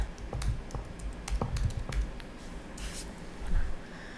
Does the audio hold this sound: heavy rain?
no